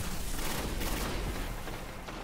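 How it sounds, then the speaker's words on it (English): Gunfire in the video game Destiny, played in an Iron Banner match: a dense, continuous burst of rapid shots and impacts, loud and unbroken for a couple of seconds. "Shout out to that guy firing rounds straight into the fucking wall"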